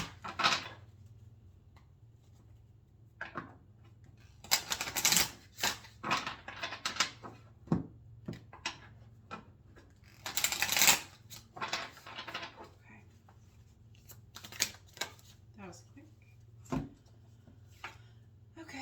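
Irregular papery shuffling and flapping of large oracle cards, loud bursts and soft rustles scattered through the clip, with occasional quiet voice.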